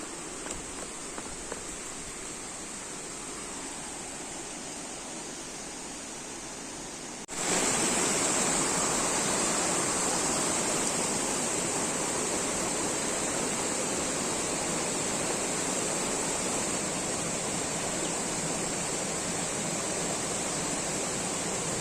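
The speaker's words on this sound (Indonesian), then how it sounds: "Air terjun Blangkulam ini" Blang Kulam waterfall in North Aceh sends up a steady, broadband roar of falling water that jumps sharply louder about a third of the way in, then holds constant with no voices.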